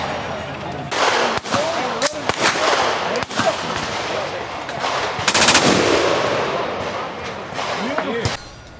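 Rapid bursts of gunfire from firearms being shot at a busy firearms booth during an outdoor shooting event, loud sharp cracks in several volleys over a steady background of crowd chatter and voices.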